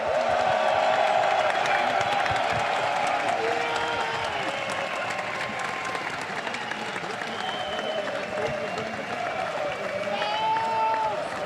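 A large esports arena crowd in Hamburg, Germany, applauds and cheers steadily for the League of Legends spring champions G2 Esports, dense sustained clapping with scattered whoops throughout.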